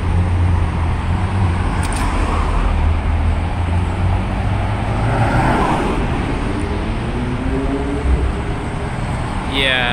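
A loud McLaren 720S sports car passes close by amid roadway noise in Beverly Hills, its engine rumbling steadily through the clip with traffic sounds in the background.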